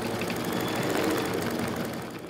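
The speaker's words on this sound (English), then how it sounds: "Attach the hoop back onto the machine, load the letter design," An embroidery machine stitching a letter design onto a hooped towel; a steady, fast mechanical whirring and rapid needle rattle that stays even and continuous, fading slightly at the end.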